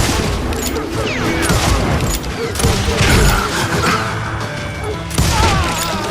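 Gunfire in the Western shooter Call of Juarez: Gunslinger: a dense, loud barrage of overlapping shots and booming impacts that rolls on with barely a gap, and brief shouting mixed in.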